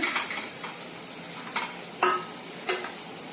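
Spices, garlic, ginger, cloves and cardamom roasting in a pan while being stirred, a soft dry frying sizzle broken by several quick scraping strokes and light clinks of the spoon against the pan.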